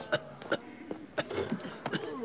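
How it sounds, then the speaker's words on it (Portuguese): A short series of dry coughs, close by, in quick bursts with brief pauses between them. "Tosse. Tosse, tosse."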